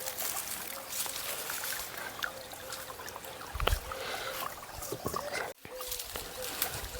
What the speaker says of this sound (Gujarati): અહીંયા પાણી ચાલુ છે અત્યારે